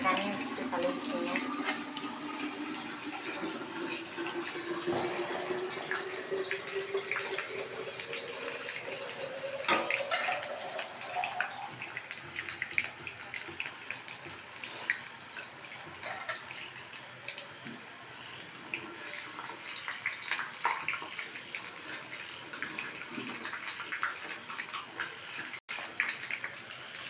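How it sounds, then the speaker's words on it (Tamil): Hands are rinsed in a container of water in a home kitchen while onion bajji is cooked, giving a continuous close sloshing and trickling with a rising pour early on. "ஒரு கண்டெய்னரில் தண்ணி வச்சுட்டு கழுவிக்கிங்க."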